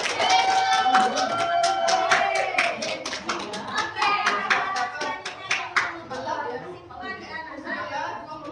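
A classroom group claps together in a quick, regular rhythm during a lecture on taxation, with voices chattering underneath, before the clapping fades out near the end.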